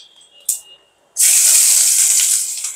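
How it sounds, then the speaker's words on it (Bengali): Cumin seeds drop into hot oil and sizzle loudly: a brief spit comes first, then a sustained, bright, close hiss that fades slowly. "একটু জিরা ফোড়ন দিলাম"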